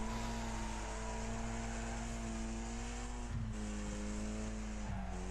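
Racing car engines roar steadily in the Wreckfest video game, a loud continuous drone with harmonic whine that shifts pitch slightly as the cars accelerate and jostle, with brief dips around gear changes.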